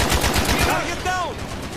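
Rapid automatic gunfire rattles through a Call of Duty Black Ops battleground match, a dense burst of repeated shots dominating the mix with shouted voices and game effects underneath.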